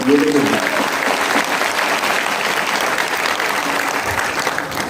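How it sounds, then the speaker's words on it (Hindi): Loud, sustained applause from a crowd, dense clapping that fills the whole stretch without a break. "जोरदार ताली बजाओ आप"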